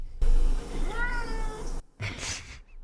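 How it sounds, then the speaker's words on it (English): A cat meows once in the VRChat world Midnight Drive, a clear rising-and-falling call up close, followed by a brief pause and a short noisy burst. "Hi, cat."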